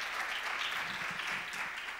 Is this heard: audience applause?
yes